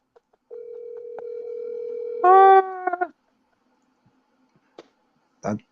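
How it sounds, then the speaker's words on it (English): A steady telephone dial tone hums for about two seconds while a call is placed, then a louder multi-tone signal and a couple of clicks follow, ending with a short faint sound. "So folks, we're trying to call Ellis here."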